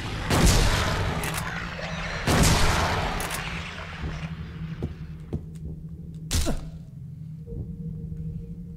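Shotgun blasts in the Silent Hill 2 video game, three loud booming shots spaced a few seconds apart over a low droning hum, with faint clicks between them.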